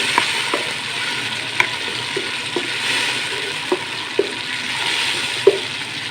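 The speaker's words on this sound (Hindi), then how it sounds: "टमाटर की भुनाई हो रही है।" A paste of three tomatoes fries in a pan for an aloo and fresh bean sabzi, giving a steady close sizzle broken by sharp clicks and scrapes as it is stirred.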